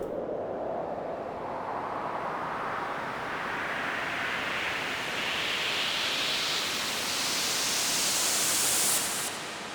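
A synthesized white noise riser for a music buildup, washed in reverb, hisses steadily and sweeps upward in brightness over about nine seconds before cutting off, with no talk.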